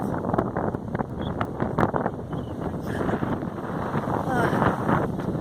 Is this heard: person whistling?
no